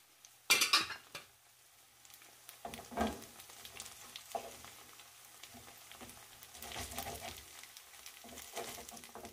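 Potato egg nests fry in a covered pan with a soft, low sizzle beneath clinks and clatters of cookware and utensils, including a sharp lid clank near the start.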